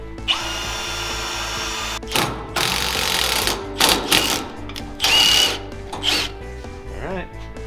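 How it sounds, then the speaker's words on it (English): A drill bores holes into metal fender brackets on a rat rod wrecker build. Several loud bursts of whining, grinding drilling are broken by short pauses, and the work is close to the microphone. "We drill and tap those."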